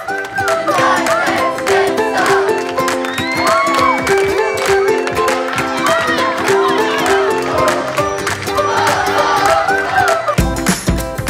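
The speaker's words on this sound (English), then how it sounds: "everyone is so bonded, cheering together during the campfire, dancing and shouting and ewa ewa ewa like this." Campers cheering, shouting and chanting around a campfire at an evening youth camp gathering, a dense, loud crowd roar with whoops and children's voices sustained throughout.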